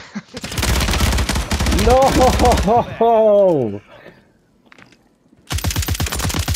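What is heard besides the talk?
gunfire in the video game Call of Duty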